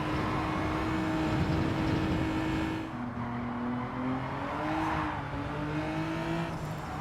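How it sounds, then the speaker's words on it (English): A Gr.3 race car in Gran Turismo 7 drones loudly and continuously at high revs, its pitch climbing and dropping through gear changes around the middle, with no voices over it. "the car sound is made in a way that it sounds as if it would have the power only on higher RPMs"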